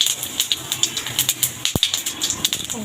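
Whole cumin seeds sizzle in hot oil in a pan while cooking spicy meat, giving a close, crackling spatter of quick pops and hisses with one brief sharp knock partway through.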